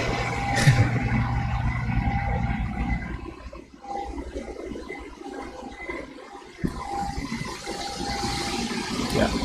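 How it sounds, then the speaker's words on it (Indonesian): Outdoors, a car passes with a moderate, uneven roar of engine and road noise that dips and swells over several seconds, with other traffic rumbling nearby. "bentar nunggu mobil lewat."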